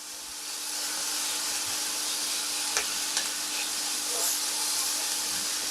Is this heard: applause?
no